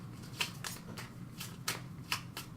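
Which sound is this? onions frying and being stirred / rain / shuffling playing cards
shuffling playing cards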